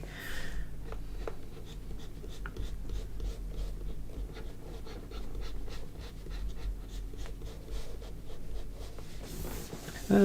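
Pencil scratching across paper while a drawing is shaded, with soft, steady strokes that are close and faint, and a few sharper taps throughout.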